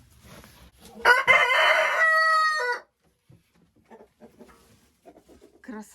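A rooster crows once loudly and nearby, a long cock-a-doodle-doo, followed by soft scattered clucks and faint background noise.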